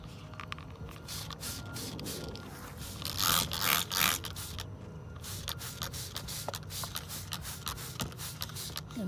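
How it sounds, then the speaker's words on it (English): Broadband hissing bursts of a spray bottle misting liquid onto vegetable plant leaves, repeated in short rhythmic pumps with a denser stretch in the middle, close and steady. "So we're gonna go ahead and just spray. Make sure you spray all the leaves."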